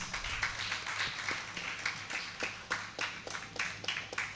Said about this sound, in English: I request all to raise up and clap the hands.